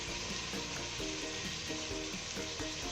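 Garlic, ginger and onion frying in oil: a close, continuous crackling sizzle with rapid bubbling pops, steady and unbroken over a few seconds.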